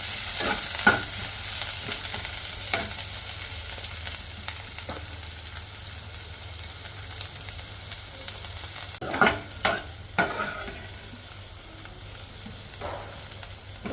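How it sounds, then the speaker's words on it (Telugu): Chopped onions fry in a pan in a continuous soft sizzle, with a few sharp scrapes and knocks of a spatula as they are stirred. No one speaks. "డైరెక్ట్ మనం ఉల్లిగడ్డ వేసేసుకుందాం"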